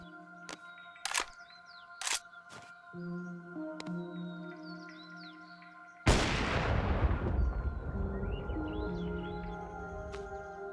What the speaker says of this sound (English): It's really fun shooting enemies from far away in VR.